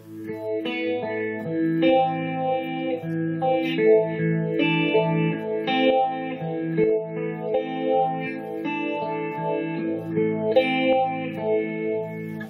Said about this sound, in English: I add a little reverb and some delay to it, and then it becomes something more moody